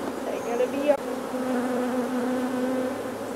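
Honey bees buzz steadily near the hive while a starter colony is fed, a dense continuous drone holding level throughout with a brief sharp knock early on.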